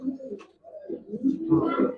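Soft cooing from two male silver pigeons, several low throaty coos in a rolling rhythm, fairly close, with quiet rustling between them.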